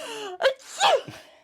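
A single sharp sneeze from a TV sitcom scene, set off by coconut-scented hair, with a gasping intake leading into it and a voice right around it, close and clear.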